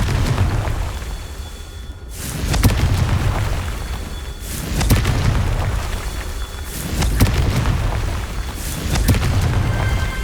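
Confringo spell blasts in the video game Hogwarts Legacy, several booming explosions about every two seconds, each with a deep low rumble and decaying burst under continuous game ambience.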